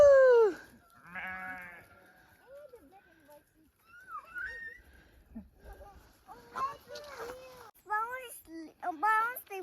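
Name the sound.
sheep bleating on a sheep farm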